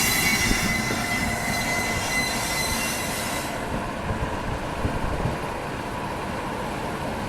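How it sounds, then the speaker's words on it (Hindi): The Udaipur City–Khajuraho Express rolls past at Agra Cantt on the Bharatpur line, a loud, steady rumble of wagons with squealing wheels that eases off partway through, no voices over it. "ये जो उदयपुर सिटी खजुराहो एक्सप्रेस है, ये भरतपुर वाली लाइन से यहाँ पे आगरा छावनी की ओर अभी जा रही है।"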